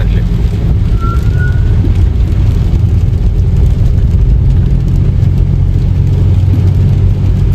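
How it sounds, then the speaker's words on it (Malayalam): Rain falls on a car windshield during a drive in Wayanad, heard as a loud, steady wash of drumming over a constant low engine and road rumble, with no talk. "മഴയാണ് ഗായ്സ്, മഴയാണ്."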